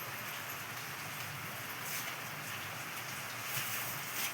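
Steady rain falls outdoors around a home during a birthday party, an even hiss of drops on surfaces with no voices, fairly faint and unbroken throughout.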